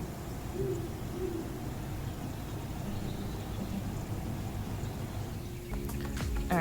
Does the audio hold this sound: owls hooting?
yes